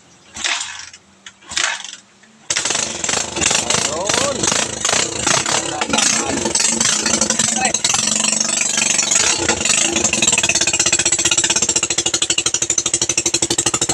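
A Rusi 150 motorcycle with a 4-pin CDI regulator problem starts after a couple of short bursts, then runs on in a steady, rapid, rough knocking idle. It stays close and loud throughout, with voices mixed in.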